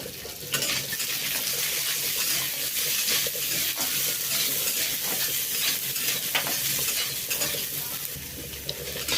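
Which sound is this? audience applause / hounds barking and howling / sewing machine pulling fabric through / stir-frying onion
stir-frying onion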